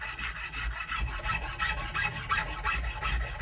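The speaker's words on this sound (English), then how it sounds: "now I'm just smoothing out whatever rough spots there were from the tools I used" Steady abrasive rubbing on a yellow birch wood tool handle as rough spots are smoothed, a continuous close scratchy rasp with a gentle back-and-forth pulse and no talking.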